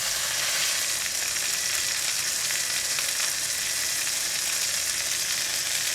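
Pork shoulder sizzles steadily in a hot pan for Thai grilled pork, a dense, even crackling hiss with no speech over it.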